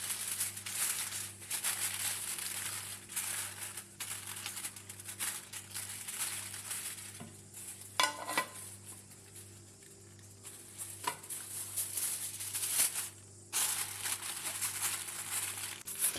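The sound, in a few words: foil paper crinkling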